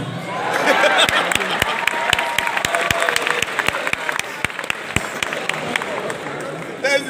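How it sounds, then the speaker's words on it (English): An audience at a Nigerian comedy show breaks into loud applause with crowd voices, and strong rhythmic clapping beats out a steady pulse over the general noise. "Please, a round of applause for us."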